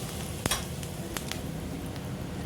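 Cumin seeds and asafoetida hit hot oil for masala Maggi, giving a steady close sizzle with a few sharp crackles and pops.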